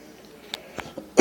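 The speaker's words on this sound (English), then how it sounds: "just trying to get over a cough" A single person clears their throat and coughs at close range: a few faint, brief throat clicks followed by one loud, harsh cough at the end.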